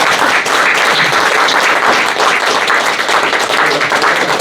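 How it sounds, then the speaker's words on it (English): An audience at a sustainability talk event bursts into sustained, dense applause, many hands clapping steadily and loudly throughout, with no voices above it. "And a round of applause."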